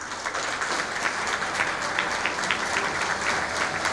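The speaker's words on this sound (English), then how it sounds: "can we please have a big round of applause for Dr." A crowd at a college orientation and inspiration programme claps for an arriving guest, a dense, even roar of hands sustained throughout at moderate loudness.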